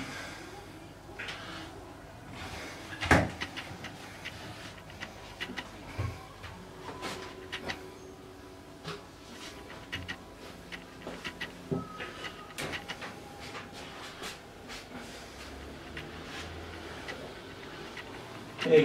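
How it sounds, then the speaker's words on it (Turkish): A silicone caulking gun seals the inside of a shower cabin during installation, giving scattered faint clicks and creaks over a low background hum, with one sharper knock near the start. "Şu an iç hazinde silikon çekiyoruz içeriden."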